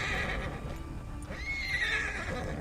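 A horse neighs in Red Dead Redemption 2 during a winter endurance race, a drawn-out whinny over steady outdoor ambience with faint hoof movement.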